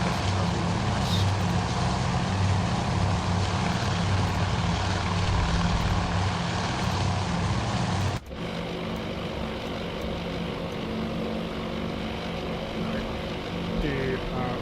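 Torpedo and dive bomber aircraft in the Task Force Admiral naval combat game, a steady loud propeller engine drone that cuts suddenly partway through and continues at a lower level, under a speaking voice.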